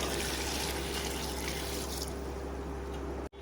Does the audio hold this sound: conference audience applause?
no